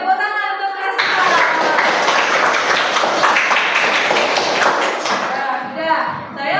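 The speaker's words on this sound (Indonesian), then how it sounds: "Beri tepuk tangan untuk kelas 4." A fourth-grade class bursts into hand clapping in a classroom. The dense, lively applause holds for about four seconds after a brief voice, then cuts off sharply.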